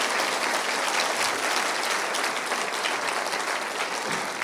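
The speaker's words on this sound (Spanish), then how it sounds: "Un aplauso fuerte por la gloria de Dios." A church congregation claps loudly and continuously in a strong, dense burst of applause filling the room.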